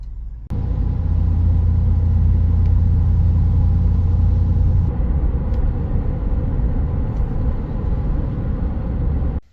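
A pickup truck engine rumbles steadily at close range as the vehicle drives along, a loud, even low drone that drops slightly in tone partway through before cutting off.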